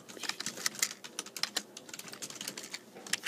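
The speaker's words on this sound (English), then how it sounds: "Sorry if you hear keyboards in the background." Rapid, uneven clicking of computer keys being typed, close and steady with no voices.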